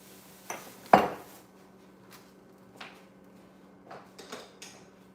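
A cooking pan set down and handled on a stovetop before avocado oil goes in, giving one sharp metallic clank followed by a few softer knocks and scrapes, close by and alone.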